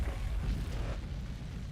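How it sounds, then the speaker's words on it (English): Cleaned-up explosion sound effect from a music producer's library, a deep rumbling boom that hits at once and decays over under two seconds. "These are all explosions that I have."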